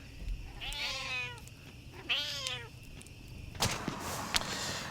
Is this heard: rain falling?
no